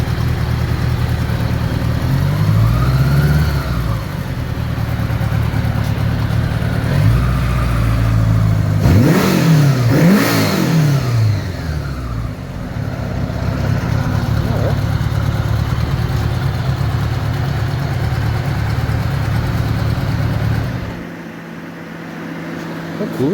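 A budget bobber motorcycle engine idles with the idle sped up, a steady loud rumble with a few revs and pitch sweeps, then cutting lower near the end.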